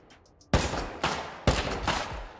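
Three loud, sharp gunshots from the video game Rust, each with a booming tail, spaced roughly half a second apart after a brief quiet lead-in.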